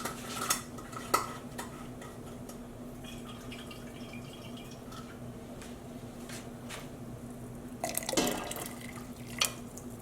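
Warm water sloshing and trickling inside a bottle being rinsed out with leftover dye-bath water, with faint clinks of pots and utensils and a louder splashing burst near the end, close by with no talking.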